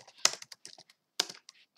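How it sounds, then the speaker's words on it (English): Two quick bursts of computer keyboard typing, crisp close clicks in rapid runs separated by a short pause, with no talk. "So let's type hello."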